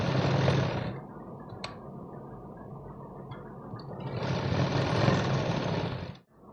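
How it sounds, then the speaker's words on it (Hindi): A sewing machine double-stitches a blouse in two bursts of steady whirring, with a quieter pause in between and a sudden stop at the end. "डबल सिलाई करेंगे।"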